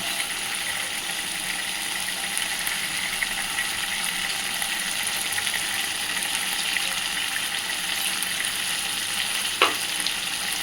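Potatoes for aloo dum sauté with ground roasted dry spices in a pan, giving a steady, close sizzling hiss throughout, with one sharp utensil scrape near the end.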